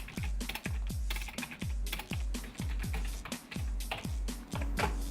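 Someone writing types quickly on a computer keyboard, a close, quiet run of crisp key clicks in uneven bursts with short pauses.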